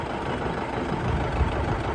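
John Deere 730 antique tractor engine idling, a steady low rumbling throb with broadband noise, close and continuous, no speech.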